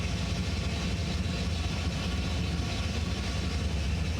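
Datsun car engine idling steadily, a continuous low rumble with an even, unbroken drone throughout, no talk.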